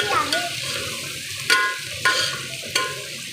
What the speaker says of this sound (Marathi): टोमॅटो सॉफ्ट होईपर्यंत परतून घ्यायचा. आता यात आपण हळद घालूया